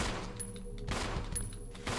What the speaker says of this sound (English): you can just cheese it with your shot, with like your pistol